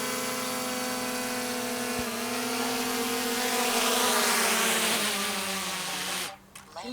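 A small drone hovers close by with a steady high-pitched propeller whine, its pitch sliding lower as it descends to land on a mailbox, then the motors cut out abruptly near the end.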